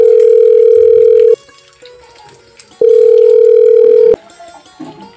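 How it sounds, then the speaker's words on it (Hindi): Loud telephone ringback tone while a call is being placed, two long steady beeps separated by a pause, close and alone with faint background noise. "फिर पहले फोन लगा देखना ठीक है वो कहाँ पर है"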